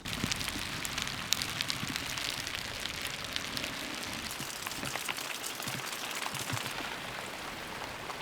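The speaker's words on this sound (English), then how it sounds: "Oh my God, the rain just keeps on coming." Rain keeps falling at a remote off-grid cabin build in Ireland, a steady soft patter and crackle of drops on surfaces and tarp, fairly faint and even throughout with no talking.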